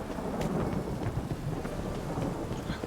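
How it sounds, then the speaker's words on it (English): Steady rain falls in The Witcher 3 video game, a continuous hiss with low rumbling thunder rolling underneath throughout, fairly loud with no voices. "Rain again."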